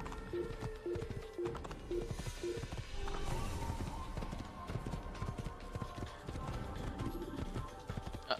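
Horse galloping in the Assassin's Creed video game, a fast rhythmic clip-clop of hooves running on through game ambience and music, steady and moderately loud with no talking.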